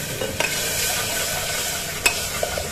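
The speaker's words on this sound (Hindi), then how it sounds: "ये मैंने डाल दी इसके अंदर टोमेटो प्यूरी।" Tomato puree stirred into cumin, coriander powder and red chili powder frying in a pan, steady close sizzling with a few scraping stir strokes and light clinks, no voices.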